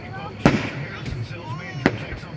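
Fireworks go off at a Fourth of July show at Highport Marina: two sharp distant booms about a second and a half apart echo over the water, with crowd chatter in between.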